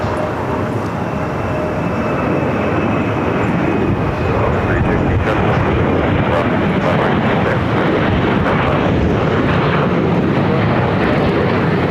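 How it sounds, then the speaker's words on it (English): An Air France Boeing 777-300ER airliner at Los Angeles International Airport gives off a loud, steady jet roar that fills the whole stretch without a break, broad and rumbling as it passes nearby. "Air France Flight 22, 777-300ER"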